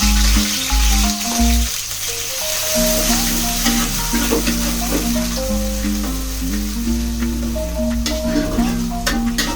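Chicken biryani masala with ginger-garlic water sizzling and frying loudly in a pan, a steady hiss with occasional stirring scrapes, close up, while music plays underneath.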